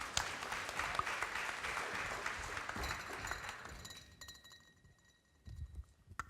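Applause from a crowd, steady and fairly soft, fading out after a few seconds into quiet room noise with a faint clink.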